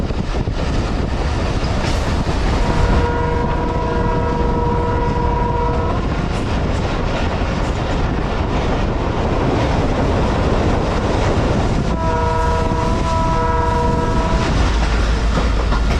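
A passenger train, the Mohenjo-Daro, rumbles loudly and steadily with clattering wheels as it approaches Seeman Sharif railway station, its horn sounding twice in long chords, once early and again near the end.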